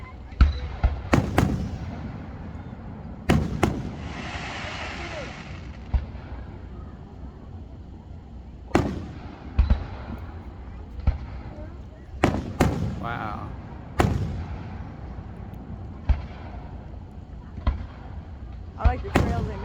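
Fourth of July fireworks grand finale outdoors: repeated sharp booming bursts at irregular intervals, some crackling and a sizzling trail, with people talking and exclaiming throughout.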